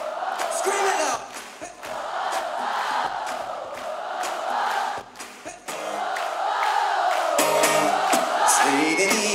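Thousands of fans at a concert in Barcelona scream and yell together in a loud, continuous roar that swells and dips, briefly quieting near the middle before surging back stronger.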